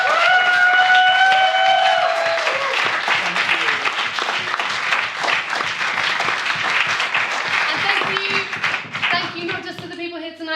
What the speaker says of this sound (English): So please give another round of applause for Hannah.